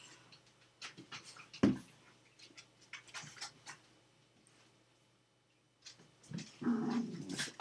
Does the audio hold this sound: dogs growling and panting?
yes